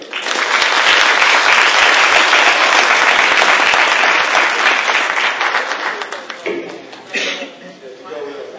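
Audience at an NAACP MLK Day event applauding a guest speaker, loud sustained clapping with a few chuckles that thins out and gives way to talk near the end.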